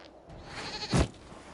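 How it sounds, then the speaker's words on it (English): A single goat bleat from the video game Dragon Age Inquisition rises out of a low ambient background, one short nasal cry near the middle, close and clear. "With a goat."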